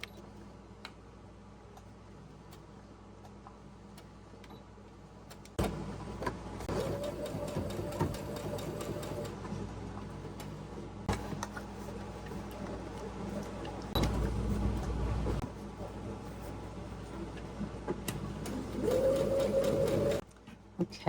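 Sewing machine stitching handles onto a Halloween-themed tote bag in three whirring bursts of rapid stitching, separated by quiet stretches with light clicks and fabric handling.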